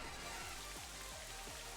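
A soft, steady rain effect from the Rain Dance move in the video game Pokémon Scarlet and Violet, a faint wash of falling drops with low rhythmic thumps running underneath.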